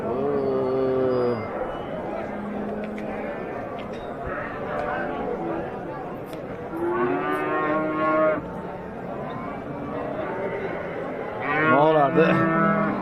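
Cattle at a livestock bazaar give several deep, drawn-out moos, close and loud, with a bigger bellow near the end, over constant crowd chatter and nearby talk.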